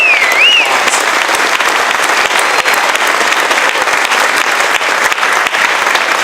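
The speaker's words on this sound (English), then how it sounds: "we should give a real round of applause to these 3 young ladies" Banquet audience at a community awards event breaks into sustained, loud applause, dense steady clapping filling the room for several seconds with no speech over it.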